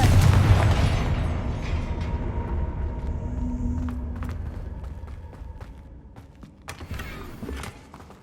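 A Confringo fire spell explodes in Hogwarts Legacy with a loud, close booming burst that fades into a long rumbling tail, followed by a few sharp clicks and small impacts.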